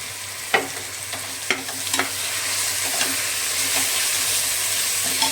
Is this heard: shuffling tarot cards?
no